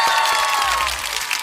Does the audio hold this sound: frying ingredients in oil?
no